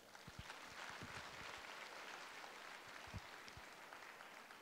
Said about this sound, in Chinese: 来给自己一个掌声